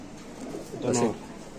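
A chua chandan pigeon gives a single short, low coo close by, with a soft murmur of background noise around it.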